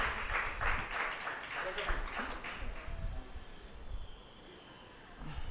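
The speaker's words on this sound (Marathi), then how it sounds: "याबद्दल पुन्हा एकदा त्यांचं आपण टाळ्या वाजवून" An audience at a literary cultural programme claps in a soft, steady patter of applause that fades out, heard fairly faintly in a hall.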